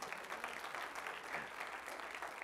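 A church congregation claps in praise to the Lord, a steady dense wash of hand claps filling the room at moderate loudness, without speech.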